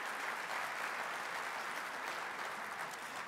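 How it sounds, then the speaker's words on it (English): Sustained audience applause at Oklahoma City's State of the City address, a steady dense roar of clapping from a large crowd at constant level, slightly distant. "Now let's give our council, our city staff, and our community volunteers a round of applause."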